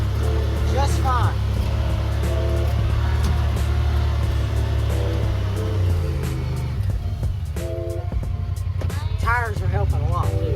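A 2022 Honda Pioneer 1000-5 UTV climbing uphill, its engine a steady low rumble that shifts in pitch partway through, with someone talking over it at several points.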